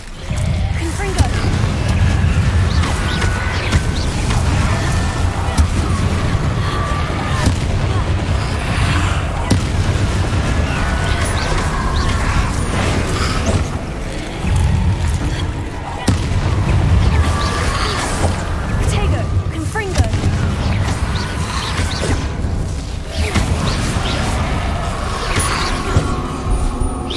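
In the video game Hogwarts Legacy, Confringo spells set off repeated booming explosions inside dense, loud combat noise, with a voice talking over the action.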